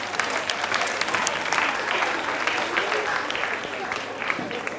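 Audience applause at a general knowledge quiz show competition, a steady wash of clapping from the crowd at moderate level, with faint voices mixed in.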